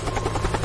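An air ambulance helicopter operated by Air Transport Europe, used for flying infants, beats steadily in a short burst of rotor chop, fairly loud and without voices.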